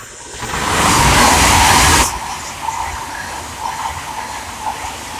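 A train rushes through a station at Welham Green on the East Coast Main Line, a loud, close burst of roar and hiss lasting about two seconds that cuts off abruptly and leaves a quieter rumble behind.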